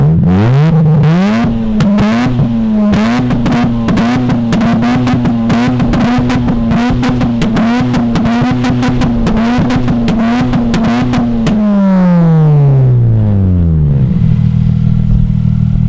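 A Mazda RX8 rotary engine revs hard through its exhaust, a loud sustained buzzing drone with rapid stuttering pulses, then the pitch falls away as the revs drop near the end; no talking.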